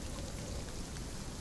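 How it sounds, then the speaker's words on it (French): Light rain begins to fall outdoors, a steady, soft patter of drops spread evenly across the short stretch, fairly faint and with no voices. "Il commence à pleuvoir un peu"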